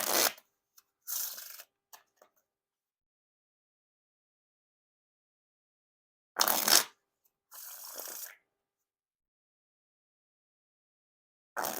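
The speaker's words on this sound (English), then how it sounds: "Now time for the riffle shuffle or bridge shuffle." Bicycle Black Tiger playing cards being riffle and bridge shuffled, with short crisp bursts of fluttering card riffles separated by long silent pauses, close and clear.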